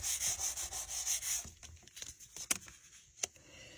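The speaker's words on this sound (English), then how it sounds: "Okay, I'm going to turn that over and give it a good rub." A die-cut piece is rubbed firmly by hand in quick, even back-and-forth strokes, close and soft, then gives way to a few scattered light taps and handling sounds.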